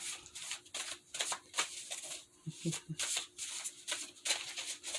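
Cards being shuffled close up, repeated quick riffling bursts in an uneven rhythm, with a faint voice underneath.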